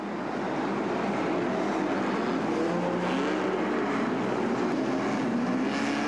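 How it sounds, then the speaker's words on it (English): Many race cars roar together on a tiny figure-of-8 track during a world championship race, a dense, steady engine drone at a distance with no voices over it. "Putting 30 cars onto this tiny track for 15 laps was always going to cause motoring mayhem"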